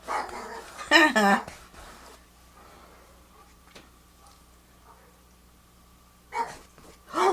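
A dog barks in a couple of short bursts near the start and again at the end, with quiet room tone in between.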